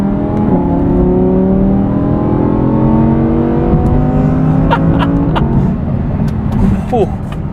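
A 2020 Audi R8 Decennium drives on an open road, its engine note rising steadily and loud in stacked revving tones as it accelerates, with a continuous close rumble and brief higher whirs near the end.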